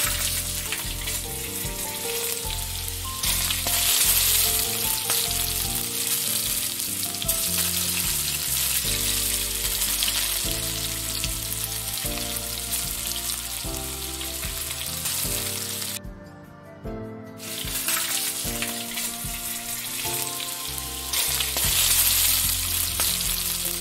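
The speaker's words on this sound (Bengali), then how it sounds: "চিকেনগুলোকে অল্প অল্প করে ভেজেই তুলে রাখবো" Chicken pieces frying in a pan, giving a loud, steady sizzle that runs throughout, dipping briefly once partway before resuming at full strength, with no voices.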